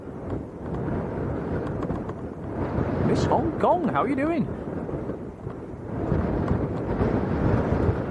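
Strong gusty wind buffets the microphone at Lanzarote Airport, a loud continuous rumbling roar that swells and eases, with a person talking over it partway through.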